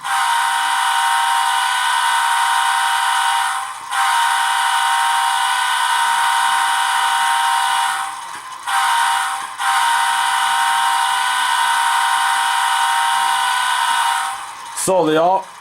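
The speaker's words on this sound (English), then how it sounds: "And now here's the horn." Sustained multi-chime horn from an ESU LokSound decoder in an Intermountain N scale ES44AC model locomotive, Norfolk Southern heritage N&W 8103, blowing loud and steady for long stretches, broken by a few short gaps and ending with a wavering blast.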